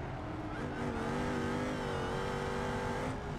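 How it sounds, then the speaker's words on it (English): Supercharged car engine in BeamNG.drive, a steady high whine riding over a continuous revving drone, close and sustained for a few seconds with no talk. "Shadow, you've got a very noisy supercharger behind"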